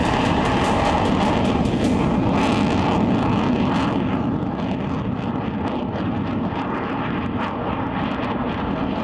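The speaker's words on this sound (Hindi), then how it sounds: "एक्सप्रेसवे के ऊपर फाइटर प्लेन्स की ये गर्जना इस बात की तस्दीक कर रही है।" Fighter jets such as the Sukhoi 30, Jaguar and Mirage roar loudly over the Sultanpur airstrip on the Purvanchal Expressway, a continuous heavy engine rumble with rising and falling jet whine.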